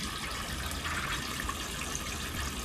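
Water sprays and trickles steadily from a hole in a garden hose inside a polytunnel, soaking a bed of young celery with a soft continuous hiss, faint and unbroken.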